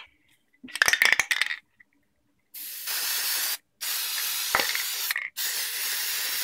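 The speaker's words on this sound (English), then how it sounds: "I'm going to go ahead and start sealing this by using some Plastidip." A spray can of Plastidip rubber sealant coats a cosplay jacket, heard as a few rattling clicks from the can, then long close hissing bursts separated by short pauses.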